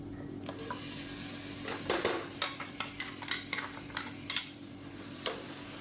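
Blended tomato puree sautéing in oil for kulambu, a soft steady sizzle under a series of sharp spoon-on-pan clinks and scrapes as it is stirred, close and moderately quiet.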